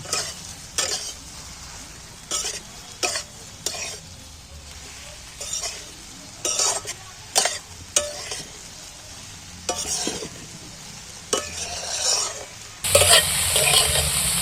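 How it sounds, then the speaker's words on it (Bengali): Eggs and soybean chunks fry in a hot pan while a spatula stirs them, producing repeated scraping strokes over a continuous sizzle, with a louder burst of frying at the end. "এইবার আমি ডিম আর সয়াবিন একসাথে তুলে দিচ্ছি ডিম আর সয়াবিন আমি ভালো করে নেড়ে"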